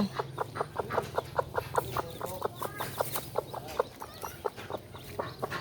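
Chickens and small chicks cluck and peep in a quick, steady run of short calls, close by over a low background hum.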